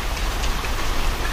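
Steady rain falls as a dense, even hiss of drops on surfaces, moderately loud and continuous with no voices.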